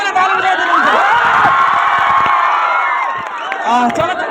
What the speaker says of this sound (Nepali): सबैले ताली बजाइदिनुहुन्छ